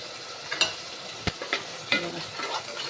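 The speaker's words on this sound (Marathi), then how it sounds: "हे आहे मसाला आपला भाजतोय छान भाजूला आहे" Masala roasting in a pan sizzles softly while a spoon scrapes and stirs it in several brief, irregular strokes.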